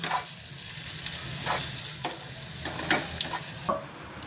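Steamed patra rolls tossed into a hot tempering in a pan, giving a steady close sizzle with stirring scrapes and a few louder bursts, no voices.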